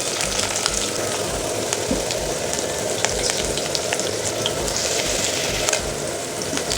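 Capsicum sautéing in a hot pan makes a loud, continuous sizzle and crackle, with steady stirring and scraping throughout, close up with no voices.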